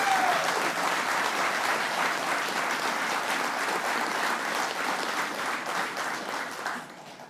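Applause from an audience at a public announcement of a new energy partnership between Newfoundland and Labrador and Québec, a steady dense ovation that fills the clip and tapers slightly at the end.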